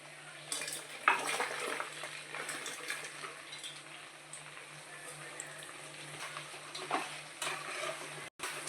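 Chicken pieces fry in a pan for Telugu chicken pickle, a steady broadband sizzle with soft stirring scrapes throughout and a low hum beneath, no talking.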